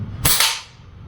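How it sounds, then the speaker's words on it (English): An Air Arms air rifle fires a single pellet at a small target, a short sharp crack that fades quickly, heard close and alone. "I let off 4 pellets at a target which is I think around 1 centimeter across"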